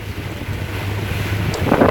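A houseboat under way on the wide, choppy Moscow River in a northerly wind, with steady rushing wind and water noise, a low engine-like drone, and a few brief louder splashes near the end.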